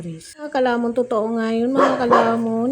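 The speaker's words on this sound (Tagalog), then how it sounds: "Para marinig nyo yung kumakahol nga dyan" Several loud, close dog barks and yelps in quick succession, with a person talking over them.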